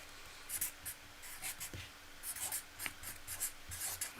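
Pen writing a note on paper, soft close scratching strokes in short irregular bursts, quiet and alone with no talking.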